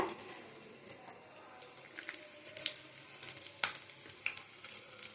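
Herbal hair oil with aloe vera and curry leaves bubbles and sizzles in a pan with quiet, irregular crackles and pops, faint and close.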